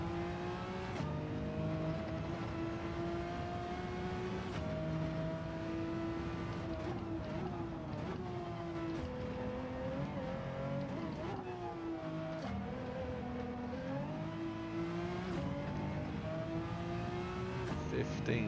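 A Pagani Zonda R race car in Gran Turismo 7 screams through the gears on the Sardegna road circuit, its loud engine note rising and dropping with repeated shifts, while someone talks over it.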